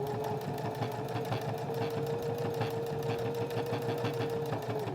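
Sewing machine stitching steadily around a small padded fabric pouch, a continuous rapid mechanical whir with even needle rhythm, close and alone.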